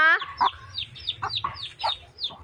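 Pet chickens cluck close by in a quick series of short, pitched calls with brief gaps, over a low background rumble.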